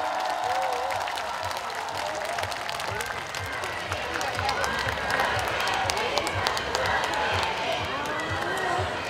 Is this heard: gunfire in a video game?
no